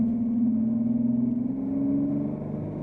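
A small Chevy Sonic car accelerates past, its mid-pitched engine note rising steadily and holding loud and close for a few seconds, with a low rumble underneath.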